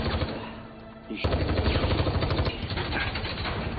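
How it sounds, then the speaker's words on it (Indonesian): A film shootout between detectives and robbers erupts into heavy gunfire. After a quieter opening, loud rapid bursts of shots begin and continue as a dense, sustained barrage, with a sharp accent partway through. "Kemudian Knight dan Fitz beradu tembak dengan perampok itu."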